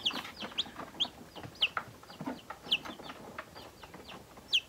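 A tiny gray silkie chick gives soft, high peeping clucks, about half a dozen short calls spread unevenly over a few seconds, close by in a quiet indoor room.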